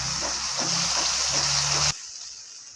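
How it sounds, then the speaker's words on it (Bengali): Water is poured into a pan of Bengali rui fish kaliya curry that already holds sour yogurt. A close, steady rush of pouring runs for about two seconds, then cuts off abruptly, leaving a faint hiss. "এখন আমি নাড়াচাড়া করে জল দিয়ে দিলাম"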